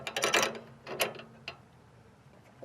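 A 7/16 flare nut wrench tightens a brake line fitting on a VW Bus during restoration, giving a few quiet metallic clicks and scrapes close by, followed by faint handling noise.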